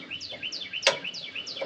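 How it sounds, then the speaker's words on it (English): Birds chirp in the morning in quick repeated high notes, several calls overlapping close by, with one sharper click partway through. "Listen to all the birds this morning"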